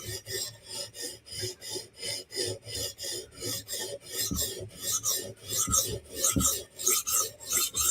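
Steel Will flipper knife drawn repeatedly across a sharpening stone, making a steady rhythm of close, rasping strokes, roughly two per second, each a gritty scrape with brief pauses between.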